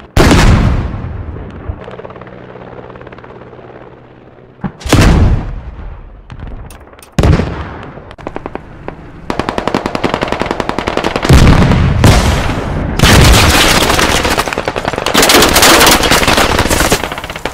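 Loud video-game combat: heavy bursts of machine-gun fire and booming blasts close by, with a few sharp single shots early and then nearly continuous rattling fire.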